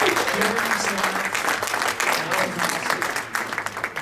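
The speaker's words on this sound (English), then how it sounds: "Let's give a big round of applause to our catering staff." A room of attendees at a grant meeting gives the catering staff a loud, sustained round of applause, dense clapping from many hands that holds steady throughout.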